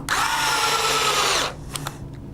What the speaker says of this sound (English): I've got this torque wrench set at about 15 on a Hitachi screwdriver.